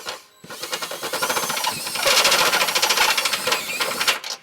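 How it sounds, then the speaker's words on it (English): A step drill bit enlarges a hole in the frame of a 2020 Subaru Impreza Hatchback during a trailer hitch installation, giving a close, loud, continuous grinding whir that runs steadily for about four seconds with no talking. "we're going to use a step bit to just slightly enlarge it to allow our hardware to"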